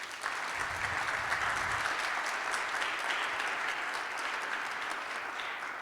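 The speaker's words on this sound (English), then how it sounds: "let's just give our sound and problem-solving chaps a round of applause" A conference audience at a science network session claps for the sound and technical crew, steady applause holding at an even level for the whole stretch.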